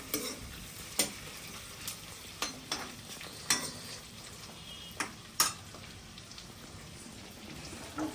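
Chicken and onions fry in oil with a soft, steady sizzle, punctuated by repeated sharp scrapes and taps as a spoon stirs the pan at close range.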